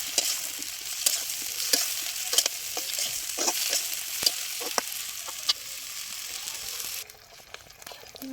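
Cut, washed eggplant pieces fry in a pan while being stirred, giving a continuous close sizzle broken by repeated scraping spatula strokes, before the frying drops away at the end.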